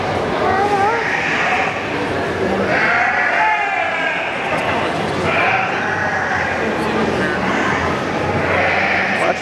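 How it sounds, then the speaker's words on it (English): A goat bleats several times in wavering, nasal cries close to the microphone at a farm animal stock show, with people talking nearby. "What's the goat say?"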